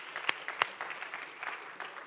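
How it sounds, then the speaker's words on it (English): Short, sparse clapping from a conference audience at a crypto event, thanking the event team, with a few distinct sharp claps early and a soft scattered patter that quickly fades. "So let's give them a big round of applause."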